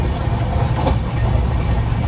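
Steady low rumble of a train running, heard from a window seat inside a passenger carriage, continuous and moderately loud with no talk.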